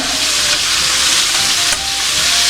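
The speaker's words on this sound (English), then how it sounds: "So, we have our kielbasa in the pan." Kielbasa sausage frying in a pan, a loud, dense, continuous sizzle and crackle heard up close, with no talking over it.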